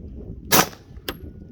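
Two sharp suppressed pistol shots firing 124 grain rounds over a chronograph, from a Canik, a loud crack followed about half a second later by a second shorter report, with low background rumble between.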